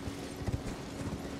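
Soft rhythmic clip-clop of horse hooves, fairly quiet, with a low steady hum underneath and no voices, in Elden Ring on Xbox Series X|S.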